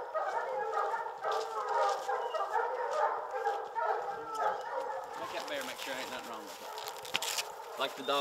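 Hunting dogs out on a bear hunt bark, bay and yip repeatedly at some distance, a rapid, uneven run of calls over quiet woodland background.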